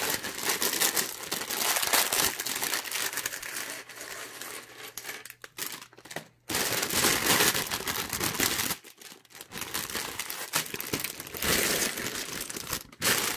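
Plastic bags of Lego parts for the Creator Expert 10278 Police Station set crinkle and tear as they are opened, a close, dense rustle that runs almost continuously with a few brief pauses.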